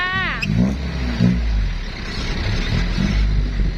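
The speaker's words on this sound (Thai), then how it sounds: "ได้ยินเสียงรถแม่" A car engine revs and rumbles nearby as it pulls up, with a short squeal and people talking briefly over the motor.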